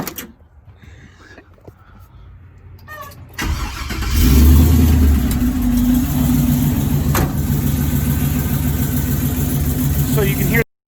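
An LS-swapped 1965 Impala SS with a loping cam cranks over and fires up after a few quiet seconds, then settles into a loud, steady, rumbling exhaust idle close by, with faint voices underneath.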